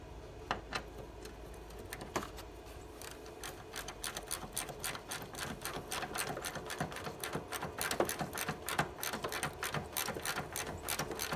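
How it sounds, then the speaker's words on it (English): Repeated rapid ratcheting clicks from a wrench tighten two 15mm strut mount bolts onto the chassis of a 2013 Sonata, a fast mechanical ticking that grows denser and louder after a slower start. "I'm getting the 2 15mm bolts on my strut mount bolted back onto the chassis"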